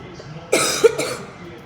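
Two close, harsh coughs in quick succession, the first sharp and the second following about half a second later, then quiet.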